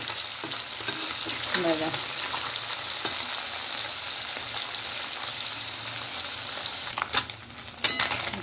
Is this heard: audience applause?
no